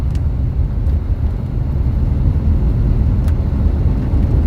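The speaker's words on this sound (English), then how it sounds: "Sounds like my car's doing all right" A car engine runs steadily while driving during a tornado chase in northeastern Colorado, a loud, continuous low rumble of engine and road noise with no talk.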